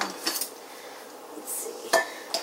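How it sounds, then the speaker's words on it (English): Knife or utensil cutting pizza dough in a bowl, giving a few soft scrapes and light clinks against the bowl, close and fairly quiet with no talking. "I'm going to cut this in half. I'll do it while it's in the bowl, though."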